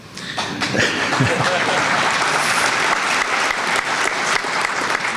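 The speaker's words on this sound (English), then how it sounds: "We all can applaud that, I think." Audience applause at a chamber of commerce annual meeting, a steady dense clapping from a large crowd that holds at full strength for about five seconds.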